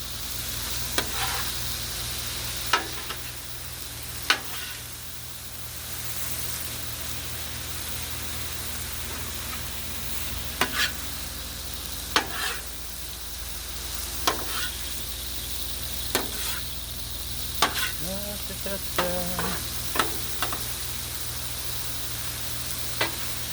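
Cauliflower rice stir fry hisses steadily on a hot griddle, a constant close sizzle like light rain, broken by sharp periodic scrapes and taps of a spatula over about twenty seconds, with no talking.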